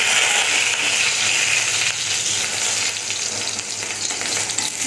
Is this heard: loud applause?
no